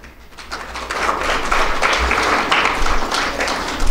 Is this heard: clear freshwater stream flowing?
no